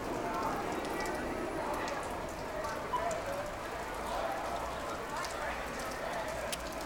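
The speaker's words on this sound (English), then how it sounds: "This is heavy rain coming down." Heavy rain pours down on a windy day at an outdoor event where people hold umbrellas, making a steady, dense hiss that runs throughout, with muffled voices faintly present underneath.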